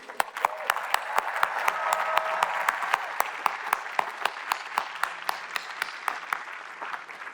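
A large graduation ceremony audience at MIT applauds steadily, with dense clapping that swells and holds, mixed with some cheering.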